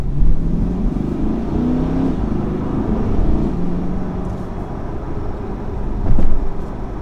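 A 2020 C8 Corvette drives along, its engine a steady low rumble from inside the car with some shifting rises in pitch and a brief louder surge near the end.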